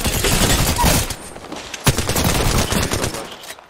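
Rapid gunfire in Apex Legends, a dense continuous stream of loud shots with a sharp burst near the middle, close and alone with no talk.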